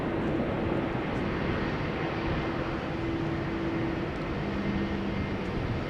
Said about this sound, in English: That's an E2 Embraer 195 coming this way by the looks of it.